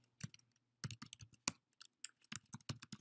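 Close, quiet typing on a computer keyboard, irregular bursts of crisp key clicks separated by short pauses.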